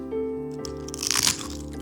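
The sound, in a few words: crunch of biting a crispy snack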